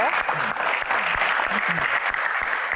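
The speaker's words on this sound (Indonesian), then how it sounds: "Tepuk tangan buat box kepo." Audience applause at an Indonesian studio Q&A show, a steady wash of clapping with a few voices and cheers mixed in underneath, loud and close throughout the short burst.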